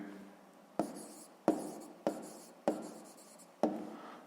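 A pen writes an answer by hand on paper in six crisp, evenly spaced strokes. Each stroke starts with a sharp scratch and quickly fades, in a quiet room with no talk.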